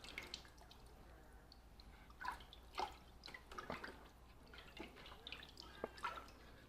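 Water splashes by hand onto a LevelGuard solid-state sewage or sump pump switch, a scatter of irregular wet drips and small splashes, close and fairly quiet, with no speech.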